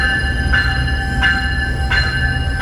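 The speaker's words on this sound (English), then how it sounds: "There's just so many different platforms for the trains to depart" Trains rumble at a Union Station platform in Toronto, with steady loud rolling noise, sustained metallic wheel tones and a regular rhythmic clack as the cars pass, no voices.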